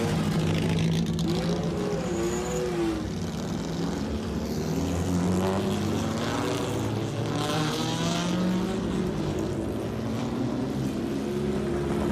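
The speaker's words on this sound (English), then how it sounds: "This event puts vintage race and sports cars back on the track in a celebration of motorsports history." Vintage race and sports cars racing on a track at a motorsports reunion, engines roaring and whining continuously as they pass with rising and falling pitch, loud and steady throughout with no talk.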